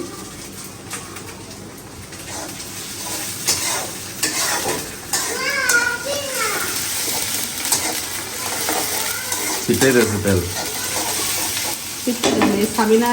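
Food frying in a pan on a home stove, with steady sizzle and splattering and spatula scrapes as it is stirred. The sizzling stays continuous and grows louder and crackly toward the end, with no talk.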